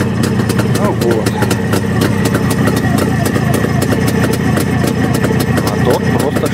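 Close, loud motorcycle engine idling smoothly in a garage, a continuous low even rumble with rapid firing pulses, while someone talks over it.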